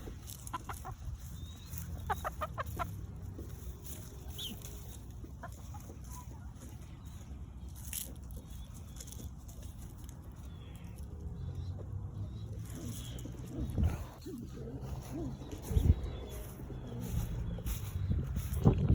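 Pet birds flown at their loft call with intermittent clucking sounds at moderate distance over a low, steady background rumble, growing a bit busier and louder toward the end.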